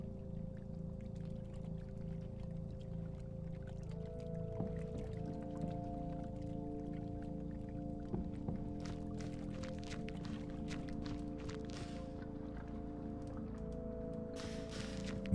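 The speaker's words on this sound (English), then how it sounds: "Metallic smell of old petrol stings my nostrils as it glugs into the tank." In a video game, petrol glugs from a can into a tank, a soft, continuous pouring sound with faint gurgles, sitting under steady tonal background music.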